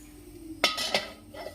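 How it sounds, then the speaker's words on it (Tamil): A metal lid set down over a paniyaram pan on the stove, giving a sharp clink followed by a second rattling knock as it settles, then faint kitchen quiet. "இப்படியே வச்சு மூடி வச்சுக்கணும்"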